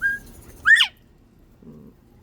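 A small pet bird gives a short, bright chirp, then a quick sharp burst of song. Both are near and clear against near silence, with a faint low murmur near the end.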